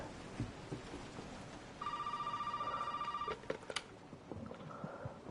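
An old telephone rings in the horror video game Resident Evil 7, one long electronic ring followed by a short clatter, set over a quiet bed of rain and distant rumble.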